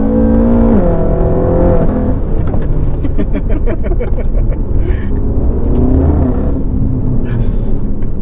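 A 2012 BMW M5 F10 is driven hard, its engine revving and rising in pitch with shifts and a loud sustained roar up close, while people talk and exclaim over it.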